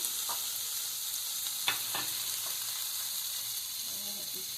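Food frying in a pan, a quiet steady hiss with a couple of faint utensil taps and scrapes, no voices.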